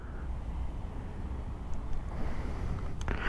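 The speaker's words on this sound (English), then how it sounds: "Slight breeze also blowing. It's not very windy" A light breeze near Turahalli forest road rushes steadily past the microphone as a low, continuous rumble, with a few faint clicks near the end.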